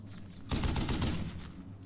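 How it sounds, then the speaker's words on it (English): In the video game Burden of Command 2, gunfire is aimed at a landing craft: a sudden loud burst of rapid automatic fire breaks out after a quiet moment and rattles on, fading only slightly. "they're firing at the landing craft"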